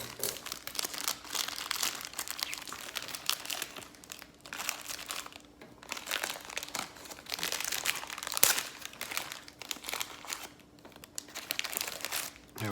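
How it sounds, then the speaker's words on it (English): Scissors cutting open a crinkly wrapper on a Caribbean snack, close and soft, with bursts of plastic crinkling and rustling separated by short pauses. "Let me cut these with the scissors because it'll be a lot easier."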